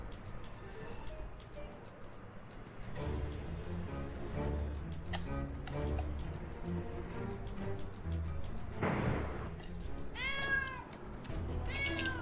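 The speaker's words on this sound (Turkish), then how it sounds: "Aa, kedi." A cat meows several times amid busy game sounds and music in The Testament of Sherlock Holmes, the mews rising clearly above the mix near the end.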